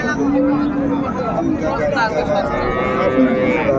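At a crowded cattle market, a cow with her calf lets out low, drawn-out moos beneath steady chatter and a babble of voices nearby.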